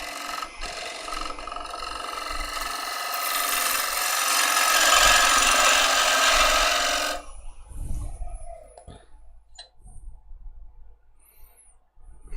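A sharp gouge nibbles away at wood spinning on a lathe, a continuous rasping cut that swells for about seven seconds and then stops abruptly, leaving a few faint clicks and handling noises.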